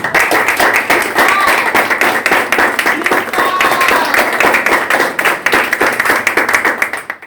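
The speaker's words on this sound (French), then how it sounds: "je vous demande de vous applaudir chaudement" Warm, sustained applause from a crowd at an association tribute ceremony, dense rapid clapping that stays loud and steady before tapering off at the end.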